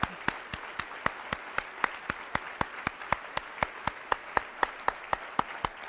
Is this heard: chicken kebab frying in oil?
no